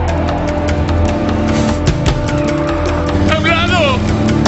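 A car engine roars and accelerates during a film chase, with a sustained loud motor drone, sharp impacts and a brief squeal near the end, while voices speak over it.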